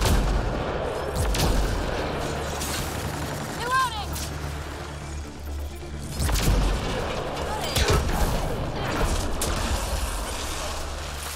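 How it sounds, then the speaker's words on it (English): Gunfire from a weapon in the sci-fi shooter Mass Effect: Andromeda, with several sharp, booming shots spread across the stretch over a steady bed of game ambience and mechanical noise. "I do like that I get three shots with this gun now."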